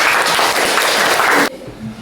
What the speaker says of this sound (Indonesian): boleh tepuk tangan juga semua